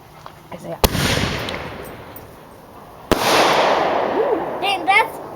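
Backyard fireworks and firecrackers before the Fourth of July: two sharp nearby bangs, each followed by a long crackling, sizzling shower, with people talking between and over them.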